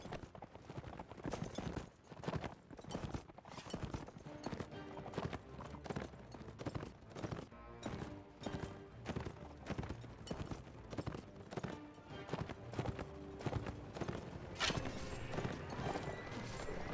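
A horse gallops in the medieval combat video game Mount & Blade Warband, with rapid, rhythmic hoofbeats pounding continuously and loudly through the whole stretch.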